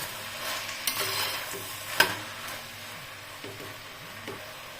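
Vegetables and cashew pieces stirred together in a pot while vegetable pulao is being made, a soft scraping and rustling of mixing with faint sizzling and one sharp clink of a spoon against the pot.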